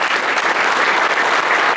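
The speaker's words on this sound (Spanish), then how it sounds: "quiero pedirles a todos un gran aplauso" Loud, dense applause from an audience at an exhibition opening, a continuous wash of many hands clapping close by for a short stretch.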